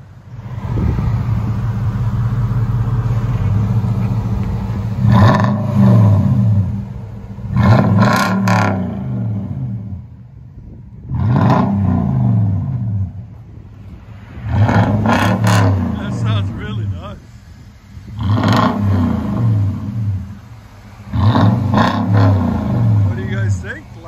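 A loud 2017 Toyota Tundra 5.7L V8 with Flowmaster dual exhaust revs repeatedly, about six throaty bursts rising and falling over a rumbling idle, close up with no talk.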